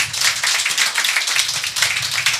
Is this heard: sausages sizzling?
no